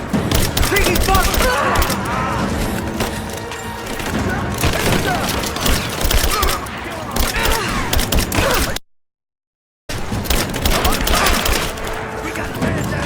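Dense, continuous gunfire and thudding impacts from a firefight in Rise of the Tomb Raider, loud and sustained with a brief silent break, while shouted voices mix into the chaos.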